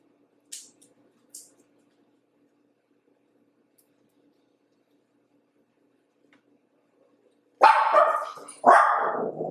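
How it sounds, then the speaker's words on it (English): A dog barks outdoors, a couple of short faint yips early on, then a louder run of close, harsh barks near the end after a long quiet stretch. "There's a dog outside barking."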